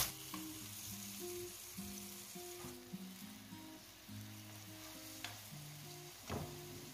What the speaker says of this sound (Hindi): ये देखें कितने मज़े के फ्राई हो रहे हैं